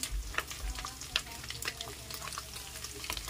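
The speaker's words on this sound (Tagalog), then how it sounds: "Habang kulong-kulo yung mantika doon sa loob ng ating kasirola, lagay muna natin ang bawang." Garlic dropped into boiling-hot oil in a casserole sizzles and crackles steadily, with sharper spatter pops scattered throughout and a low rumble underneath, close and fairly quiet.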